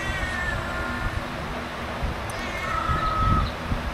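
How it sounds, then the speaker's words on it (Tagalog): Outdoors beside urban fishing water, a cat gives a couple of drawn-out meows, moderately near, over steady wind and rustling background noise. "May pusa dito"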